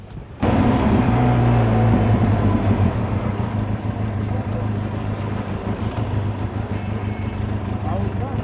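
A passing train starts abruptly with a loud, deep rumbling drone and a low humming engine tone that continues heavily for several seconds, close by, in a forest area.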